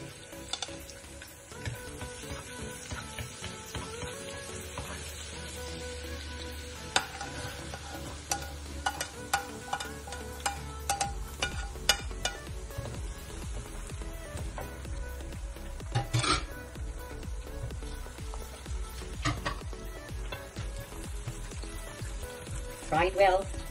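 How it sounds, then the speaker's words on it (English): Garlic frying in hot shortening sizzles steadily for the whole stretch, with frequent clinks and scrapes of a spatula stirring the pan, a low rumbling hum through the middle, and occasional talk over the top. "We're going to fry the garlic. I put the shortening here."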